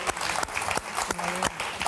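Studio audience applauding on the French game show Motus, a dense clapping wash that runs steadily throughout, with a few brief tonal blips and clicks on top.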